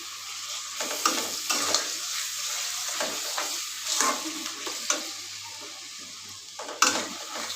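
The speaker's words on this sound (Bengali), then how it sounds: "মশলা করে দিয়ে এটা কিন্তু ভালো করে কষাতে হবে মশলাটা" Mutton sautés in a pan with spices, salt and turmeric, cooked in little oil, giving a steady close sizzle broken by repeated scraping stirs of a spoon.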